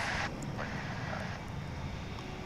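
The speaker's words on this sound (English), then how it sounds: "Another Embraer 145." An Embraer 145 American Eagle regional jet lands at DFW International Airport. Its engines make a steady, moderately loud roar and rush with a little distant background noise, and no one speaks.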